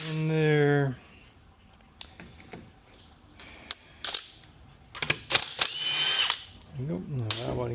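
A power drill whirs in short bursts while Torx bolts are worked out of a failed converter, with a long drone at the start, then brief clicks, clanks and ratcheting, and talk in between.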